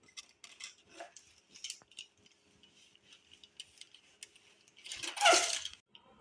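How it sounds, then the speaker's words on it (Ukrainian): A knife trims the uneven edges from a baked Medovik honey cake layer, giving soft scraping and light clinks against the board, quiet and close, with a louder crisp scrape near the end. "Відрізаємо нерівні краї, які використовуємо для посипки торту."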